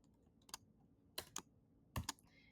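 Typing on a computer keyboard, a few quiet, separate clusters of clicky keystrokes with pauses between them in a still room.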